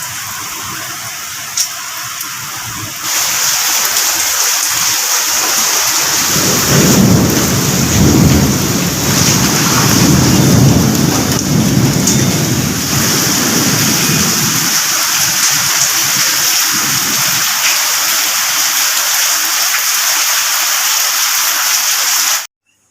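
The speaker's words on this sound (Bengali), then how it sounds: "তেমনি ঝড় তেমনি বৃষ্টি তেমনি বিদ্যুৎ চমকাচ্ছে।" A thunderstorm during a natural disaster brings heavy, loud rain pouring steadily, with deep rolling thunder rumbling through the middle; no voices.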